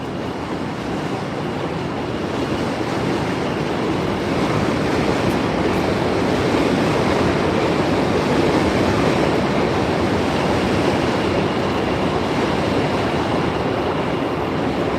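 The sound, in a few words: train crossing the Williamsburg Bridge, New York City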